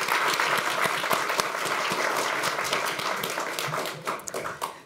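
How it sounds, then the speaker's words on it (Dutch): A studio audience at a Dutch youth talk show on conspiracy theories gives a warm round of applause, steady and dense throughout, with no talk over it. "Een warm applaus ook voor Yaron."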